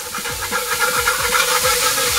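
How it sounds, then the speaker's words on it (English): Steam hisses off a hot, dirty flat-top grill being steam-cleaned between burger patties, a loud, continuous close-up sizzle with faint scraping beneath. "what I like to do is give it a steam clean in between patties"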